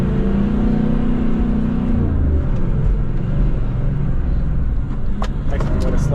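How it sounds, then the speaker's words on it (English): A four-wheel drive engine labours up a sand track at Indian Head on Fraser Island, a loud continuous rumble and whir building steadily across the whole stretch with no break. "there's another car coming"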